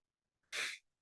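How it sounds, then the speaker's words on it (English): A single sharp sneeze from a podcast host, close and loud, about a third of a second long after a brief intake of breath, with nothing else around it. "I'm going to sneeze now."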